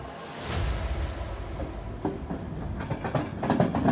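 A train runs along the track with a muffled rumble and rhythmic clickety-clack of wheels over rail joints, the clatter growing busier toward the end.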